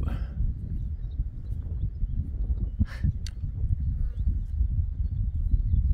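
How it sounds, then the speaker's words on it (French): Free-roaming horses on the GR20 trail in Corsica give faint hoof clip-clops over low wind rumble and the outdoor hush of the mountain. "Les chevaux."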